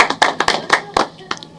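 A handful of people clap in a short, uneven burst of sharp, close claps with small gaps between them, applauding a woman named Pratyusha at a showroom opening.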